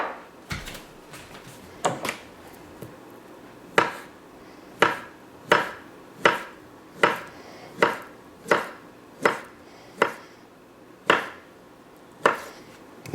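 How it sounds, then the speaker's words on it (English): Knife chopping through a salad ingredient on a cutting board, cut on an angle for an Italian-style turkey salad: a steady series of sharp, close knocks roughly every three-quarters of a second, alone without talk. "So I'm just going to cut this on an angle."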